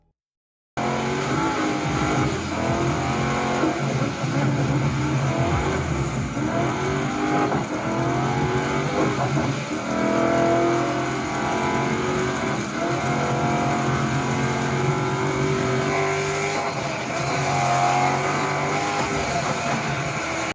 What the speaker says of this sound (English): I felt like I was actually in a car on a muddy road driving in the pouring rain